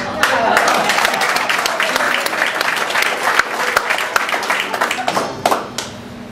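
A roomful of people applauding after a magic trick finale at a community cooking demo, a loud burst of clapping that gradually thins out, with voices chattering through it.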